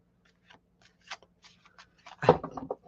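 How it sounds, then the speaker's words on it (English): Tarot cards being shuffled by hand in a quiet room, a series of soft isolated flicks and rustles building to a louder riffling burst near the end. "Got to make sure I'm shuffling good."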